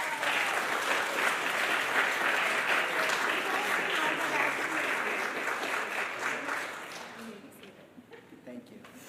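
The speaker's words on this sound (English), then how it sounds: "One more round of applause." Sustained applause from a synagogue congregation, loud and dense, gradually thinning and fading out toward the end.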